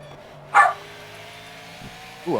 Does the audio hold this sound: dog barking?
yes